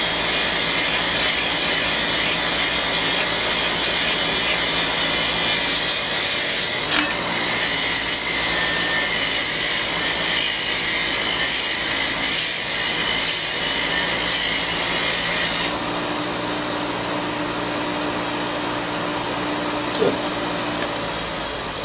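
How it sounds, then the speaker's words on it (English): A steel wire wheel spins on a bench buffer in a workshop, a steady loud whirring grind that holds for the full stretch and shifts tone partway through, with no one speaking over it. "put it on the buffer for a minute, or the steel wheel"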